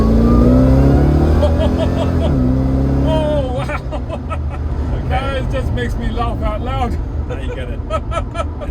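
A supercharged LS V8 in a 2021 Jensen Interceptor R restomod roars under hard acceleration, a loud rising engine note that climbs and shifts up, heard from the cabin with people talking over it.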